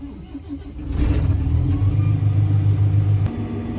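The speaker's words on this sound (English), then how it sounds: "New farm truck, Dodge Ram, Hemi." A Dodge Ram farm truck with a Hemi V8 rumbles nearby, its engine noise rising to a steady, loud low drone as it runs, with no talk over it.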